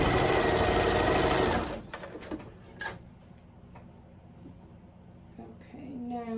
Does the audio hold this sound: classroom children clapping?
no